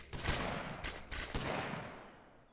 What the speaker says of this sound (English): as long as you guys can hear me over like the gunfire and things like that